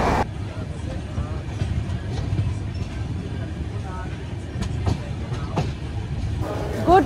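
A train runs on the rails at night toward NJP station en route to Darjeeling, a steady low rumble with faint rhythmic clicks and occasional squeals throughout.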